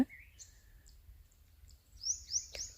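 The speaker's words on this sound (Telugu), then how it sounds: "ఇక్కడ కొన్ని పక్షులు అరుస్తున్నాయి జాగ్రత్తగా వినండి" Birds call out over village fields, with a few short, thin chirps early on and a brighter pair of calls near the end, moderately distant over a quiet outdoor background.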